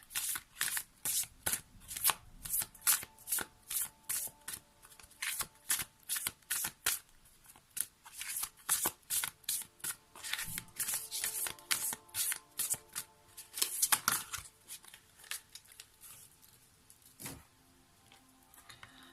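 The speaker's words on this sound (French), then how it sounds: "on va prendre tout de suite la petite carte issue du tarot des archanges" A tarot deck of archangel cards is shuffled over and over, producing close, rapid riffling bursts in a steady rhythm with brief pauses between them, and no voices.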